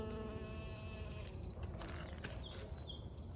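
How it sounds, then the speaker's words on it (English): Bees buzz around garden flowers outdoors, a continuous close buzzing hum with steady low background noise. "So I'm not freaked out by bees or hornets or anything like that"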